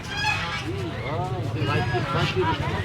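Ducks and geese honk and quack loudly and repeatedly among a crowd at a village poultry market in Narsingdi, Bangladesh, with buyers and sellers talking and bargaining over the calls.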